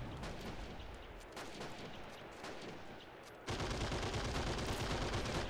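A machine gun covers a trench line in a video game battle set in the 1918 defense of Kiev, with rapid, dense bursts of gunfire and distant battle noise, fairly faint, then louder and steadier near the end.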